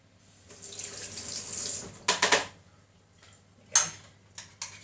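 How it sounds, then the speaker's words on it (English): A kitchen tap runs as a spoon is washed beneath it, the water hissing steadily for a couple of seconds, then brief splashy bursts and clinks of the spoon nearby. "I'm just going to wash the spoon"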